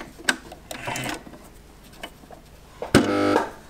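A serger stitches knit fabric for a jumpsuit in brief mechanical bursts, a short whir early on and a louder steady run at the end, near and clear.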